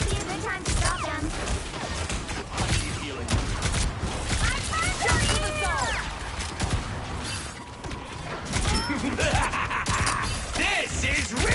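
Heavy gunfire rattles through a Marvel Rivals match in dense bursts, mixed with impacts, crashes and ability effects, with voices calling out over the continuous din.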